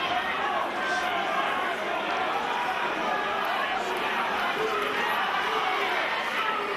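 A dense, steady roar of a crowd at a TC32 fight between Mick Berry and Lewis Garside fills the whole stretch, with broad chatter and shouts sitting under a commentator's voice.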